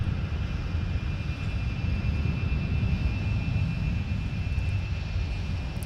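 A Delta jet airliner taking off from runway 17 at Minneapolis–Saint Paul airport, heard as a steady, loud, broadband engine roar that holds evenly throughout with no talking.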